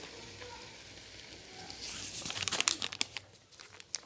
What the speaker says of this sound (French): mon gombo est en train de cuire tranquillement